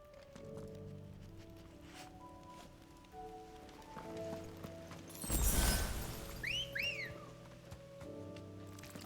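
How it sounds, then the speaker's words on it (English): In Final Fantasy XVI, Clive whistles twice in quick succession, a short bright two-note call heard over soft game ambience and footsteps, with a louder rustling surge just before. "Clive again with his cat calling whistle."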